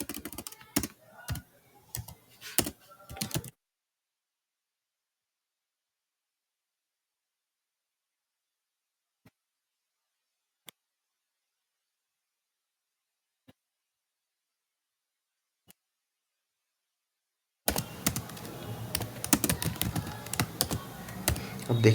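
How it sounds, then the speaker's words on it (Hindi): Computer keyboard typing comes in two bursts of quick, close key clatter, one at the start and one at the end. Between them lies a long near-silent gap broken only by a few isolated clicks. "अब हमें किस डाटा से किस डाटा तक डाटा चाहिए, अब हम वो टाइप करेंगे।"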